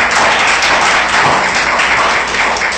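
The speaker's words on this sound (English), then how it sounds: "So make a round of applause for the panel real quick." Dense, loud applause from a convention panel audience, continuous clapping at close range throughout with no speech.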